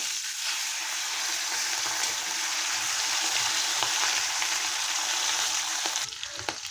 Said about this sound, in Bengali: আর এখানে আবার মাছগুলো ভেজে নিচ্ছি